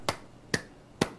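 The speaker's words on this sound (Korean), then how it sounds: "박수 3번 시작!" A group of children claps three times, evenly spaced and sharp, at a church children's event, each clap standing alone with quiet between.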